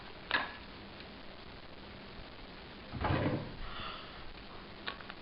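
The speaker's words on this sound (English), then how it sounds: "Is your drawer stuck?" A stuck drawer is yanked in a comedy commercial skit, giving two short scraping bursts, one near the start and a longer one midway, fairly faint over a quiet background.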